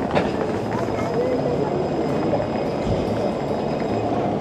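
Train rolling along the rails in Ireland, a loud continuous rumble and rattle heard from inside the carriage, with faint voices under the steady noise.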